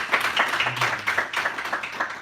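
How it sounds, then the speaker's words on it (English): Small audience applauding a speaker at a public speaking session, a few people clapping with quick uneven claps, moderately close, brief and scattered. "Round of applause for that."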